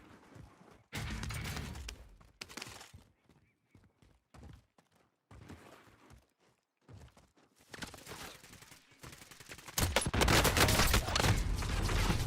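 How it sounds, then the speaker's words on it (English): Sniper and weapon gunfire in a video game, heard as scattered bursts of shots broken by brief gaps, building into sustained, loud rapid firing near the end. "Oh, we're getting sniped at."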